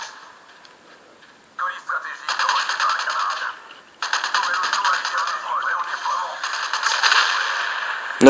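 Gunfire in the Call of Duty video game, bursts of rapid shots in two long stretches separated by a brief pause, heard over game audio.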